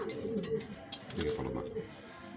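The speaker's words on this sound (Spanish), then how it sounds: "Mira, paloma." A sports pigeon coos softly nearby in a loft, its low, throaty calls repeating. Faint background noise runs under it.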